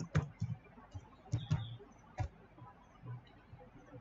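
A computer mouse clicks a few times at close range in a quiet room, sharp isolated taps spaced irregularly with no talk.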